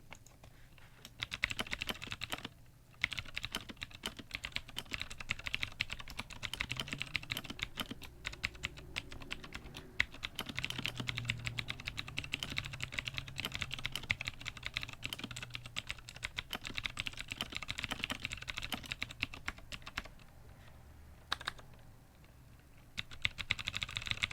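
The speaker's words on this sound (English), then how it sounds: "it's quite sharp, it's quite clicky, but then again, it is MX Blues" Fast, continuous typing on an iKBC Table E 401 mechanical keyboard fitted with Cherry MX Blue switches: sharp, clicky keystrokes recorded close up from the front, with brief pauses and no talking.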